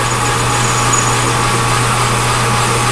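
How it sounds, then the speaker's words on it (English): A metal lathe spins its spindle in reverse as a boring bar cuts the workpiece, a steady, loud machine drone with a constant low hum and a hissing cutting noise, unbroken throughout. "I'm running the spindle in reverse and coming up to the center"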